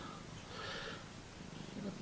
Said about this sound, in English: Oh, that's a purr.